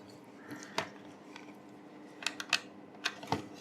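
Small plastic clicks and light taps while the four screws of a remote-controlled toy car are undone, a few sharp ticks scattered over a quiet background with no talk.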